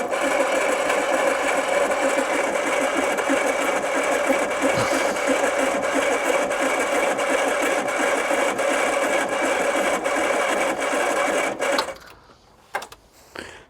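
A forgotten 1980s turbo car engine pulled from a barn cranks over with a fast, even mechanical rattle for about twelve seconds, then stops abruptly, followed by a few loud clunks.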